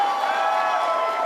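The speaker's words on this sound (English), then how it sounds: "Listen to that crowd." Loud crowd noise at a political debate between Dave Smith and Josh Hammer, a steady sustained roar of cheering and shouting that fills the whole moment without a break.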